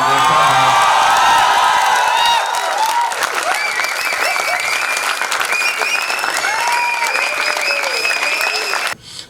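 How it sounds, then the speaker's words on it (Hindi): A theatre audience at a drama festival claps loudly and steadily, with cheers, whoops and whistle-like calls rising over the sustained applause before it cuts off at the end. "तो बड़ी जोरदार तालियां"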